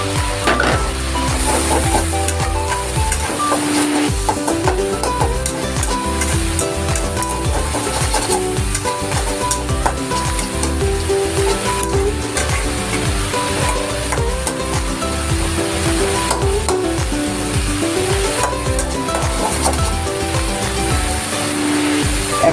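Carrots and green chilies fry in oil for noodles, giving a loud, continuous, close sizzle with stirring clatter throughout.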